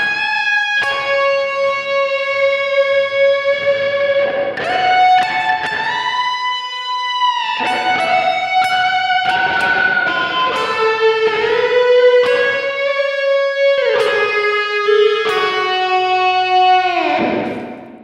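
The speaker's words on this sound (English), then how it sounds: "Yeah, tons of reverb on that solo." A sustained guitar solo drenched in heavy reverb, with long singing held notes and smooth bends washing continuously over a dense backing mix, loud and unbroken.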